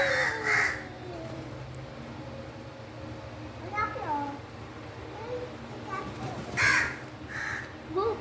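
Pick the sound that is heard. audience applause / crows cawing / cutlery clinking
crows cawing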